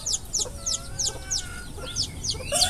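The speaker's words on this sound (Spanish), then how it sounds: "No puedo quitar el sonido del canto de los gallos" Roosters crow and cluck repeatedly in a garden where plant cuttings are being rooted, several fairly close calls repeating in a steady rhythm over a faint outdoor background with no talk.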